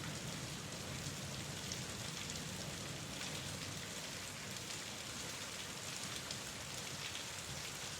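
Steady, dense rainfall pours down in an even, unbroken hiss, close and moderately loud, with no voices or other sounds over it.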